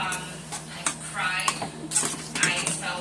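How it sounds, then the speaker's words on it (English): A spoon stirs and clinks against a pot of black-eyed peas cooked with smoked turkey drumstick as Worcestershire sauce goes in, giving several scraping, tapping metal knocks at an uneven rhythm with kitchen noise in the background. "Teaspoon of Worcestershire sauce. Just stir that in there."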